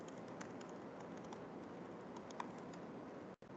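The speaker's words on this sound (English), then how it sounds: "I can hear Julie typing." Faint keyboard typing during a meeting, soft scattered key clicks over steady background hiss, distant and quiet with a brief dropout near the end.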